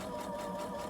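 A sewing machine hums steadily and close by as it stitches a waistband, an even, unbroken whir with no talking.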